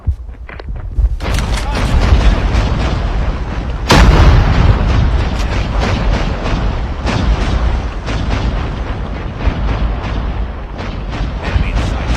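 Predator missile strike in a video game: dense, continuous rumbling explosions and heavy booms with crackling gunfire, loud and sustained, with a sharp blast around the middle.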